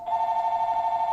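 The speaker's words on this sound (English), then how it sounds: "interrupted by a phone." A telephone rings with a steady, loud electronic tone that warbles rapidly and continuously for about a second.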